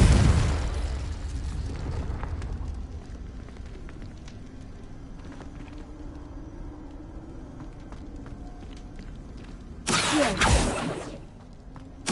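Confringo explosion spell cast in Hogwarts Legacy on PS5: a loud blast opens, fades into a steady rumble, and a second sharp explosive burst erupts near the end, with no voices over it.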